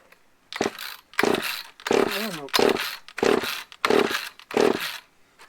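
A Stihl 066 chainsaw, choked and pulled over to start, gives seven evenly spaced loud rasping pulls, each a short burst of cranking with a sputter, separated by brief silences.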